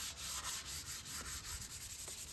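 Sandpaper of 320 grit rubs back and forth over a painted surface, a steady rhythmic scratchy hiss in quick repeated strokes, close and alone.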